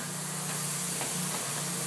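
Open cell foam insulation sprays out in a steady, continuous hiss with a faint low hum beneath it, even and unbroken throughout.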